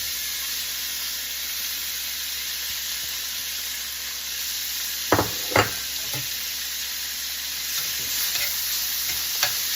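Half a pound each of ground beef and bulk sausage sizzle with a constant hiss in a pan. A spatula breaks up the meat with a few sharp scrapes and knocks on the pan, heard up close.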